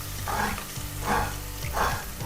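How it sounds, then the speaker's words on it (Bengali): Onions and green chillies fry in oil for a bottle gourd curry, a steady close sizzle rising in three rhythmic swells as the pan is stirred. "লাউ রান্না করার জন্য তেলের মধ্যে কিছু পেঁয়াজ কাঁচামরিচ দিয়ে নেড়ে চেড়ে"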